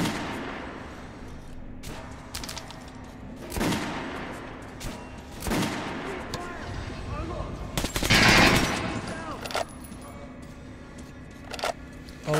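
Shell-loading gun firing in Metro: Last Light, several sharp separate shots spaced seconds apart with a louder burst near the end, mixed with mechanical clicks and game sounds, with no one speaking.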